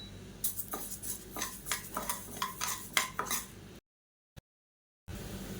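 Moong dal is roasted in oil in a pan, with a spatula scraping and stirring in quick rhythmic strokes, plus light metallic clinks. The sound cuts to silence near the end and then returns.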